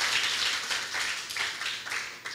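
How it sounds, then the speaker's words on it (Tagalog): Congregation at a Christian church service clapping together for the Lord, a steady mid-level wash of hand claps with slight swells, no talk over it. "palakpakan natin si Lord."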